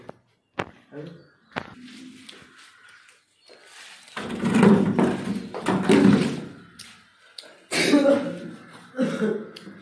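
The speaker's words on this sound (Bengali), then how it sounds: "কাশি গেল" Several harsh coughs and throat-clearing bursts, some sharp and isolated, others heavier and grouped, with brief knocks in between.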